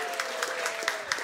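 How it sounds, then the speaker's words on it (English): Steady applause from a TV studio audience, a dense wash of clapping that holds at an even level throughout with a few louder claps. "a big round of applause for United Future leader, Peter Dunne."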